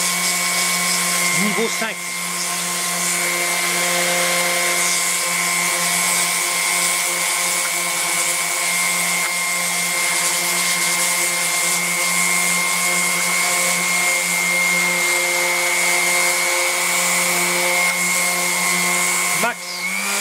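Duro Pro D-ES 125 mm electric random orbital sander running at a high speed setting, a steady, close, loud whine and buzz held throughout, with a short voice near the start and a brief change near the end.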